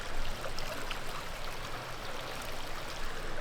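A stream flows steadily near a bridge close to waterfalls near Eatonville, Washington, a constant soft rushing with no voices.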